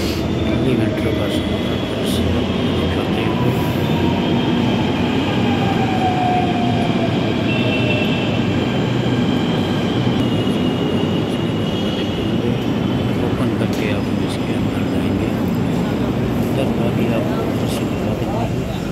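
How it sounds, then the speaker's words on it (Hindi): A Delhi Metro Blue Line train arriving at a station, a loud, steady rumble and rolling hum that holds throughout with a faint rising whine partway through. "मेट्रो आने वाली है, मेट्रो"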